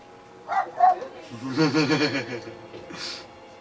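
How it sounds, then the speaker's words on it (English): A dog gives a couple of short yips, then a run of whining, yowling barks, followed by a brief higher bark. The sounds are fairly close and mixed with the noise of a television programme. "that's my nan's dog now, joining in"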